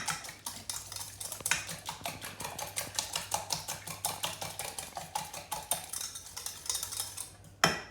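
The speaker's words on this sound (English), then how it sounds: "So that's the chia seeds, eggs, oil and vinegar Yes. there. We beat those up." Chia seeds, eggs, oil and vinegar being beaten in a bowl for gluten-free bread, a fast, steady run of close clinking whisk strokes against the bowl, with one louder knock near the end.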